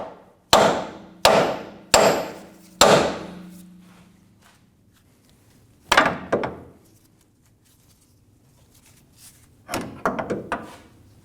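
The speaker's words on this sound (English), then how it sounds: "Using a hammer, we're going to break the tension in between the drag link and the pitman arm." Hammer blows on a steel drag link to break it free from the pitman arm of a 2019-2025 Ram 2500 steering linkage: four sharp ringing metallic strikes in quick succession, a lone hit, then a rapid cluster of lighter taps.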